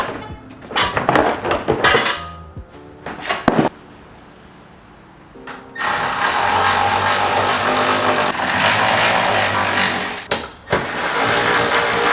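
Torx screws come out of a Mk7 Golf R fender liner with a power tool, starting with clattering, rattling bursts and sharp knocks, then a steady loud mechanical whir that cuts out briefly before resuming.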